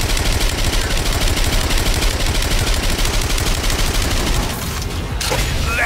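Activated gun turrets in the game Agents of Mayhem fire a dense, continuous barrage of rapid shots, loud and close throughout, fading slightly near the end.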